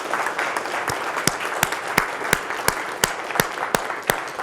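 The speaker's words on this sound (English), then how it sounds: "can I have a round of applause for them?" A conference audience applauds in a soft, diffuse patter while a few nearby claps land sharply at a regular beat, fairly faint overall.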